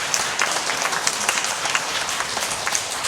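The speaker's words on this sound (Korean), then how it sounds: "함께 박수로 축하해 주시겠어요?" Sustained applause from a church congregation, many hands clapping steadily and fairly close, with no speech over it.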